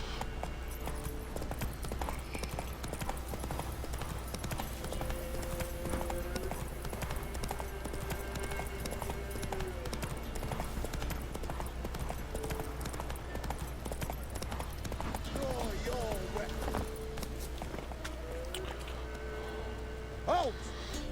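Horse hooves clip-clop at a steady trot throughout a stretch of The Witcher video game, quiet under game ambience with faint tonal sounds, with no clear voices.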